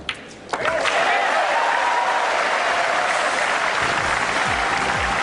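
At a pool match between Ralf Souquet and Ronato Alcano, a crowd breaks into loud applause after a brief quieter moment. The clapping swells quickly and stays dense and sustained, with faint voices mixed in.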